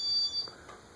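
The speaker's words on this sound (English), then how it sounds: "I don't recognize that beep." Short electronic beep from a Casablanca Spirit of Saturn ceiling fan with InteliTouch control running in demo mode, a thin high tone heard once, close and fairly quiet, with no talking.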